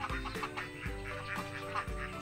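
Laying ducks on a farm give repeated loud quacks, several calls in a loose rhythm, close by and clear with no talk over them.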